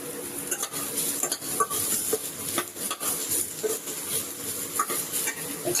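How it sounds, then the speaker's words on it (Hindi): Chopped chillies go into softened onions frying in a pan for a vegetable soup, with busy scraping and stirring of a utensil against the pan over a light sizzle. "अब कटी हुई मिर्च डाल दे रही हूँ।"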